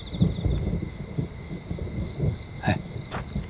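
Thunder before rain: a low rumble outdoors, moderately loud, with a sharper crack near the end and faint insect chirps behind.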